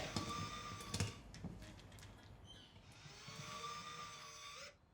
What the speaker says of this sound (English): Now we're ready to drill our 1/4 inch holes with the 1/8 inch drill bit.